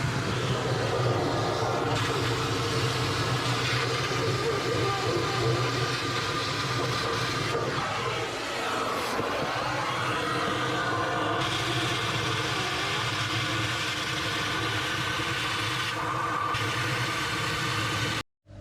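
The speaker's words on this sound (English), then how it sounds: "I'm going to just take the vacuum, stick the hose in, and apologies for the noise, but we're going to vac it out." A vacuum hose sucks waste out of a koi fry tank with a loud, continuous motor drone, its tone wavering and dipping midway as water and debris are drawn through, before cutting off abruptly.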